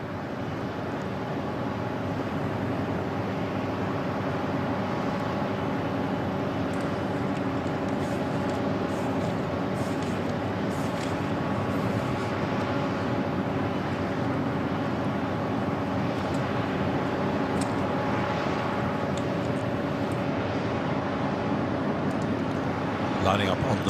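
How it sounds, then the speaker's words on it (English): An HAL Tejas light combat aircraft idles on the runway at the Bahrain Air Show, its engine producing a steady, broad jet roar that holds constant throughout under a voice. "وقد حصلت طائرة تيجاس على إذن بالإقلاع من المدرج الرئيسي."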